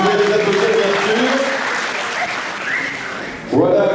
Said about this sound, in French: Vous pouvez les applaudir, bien sûr.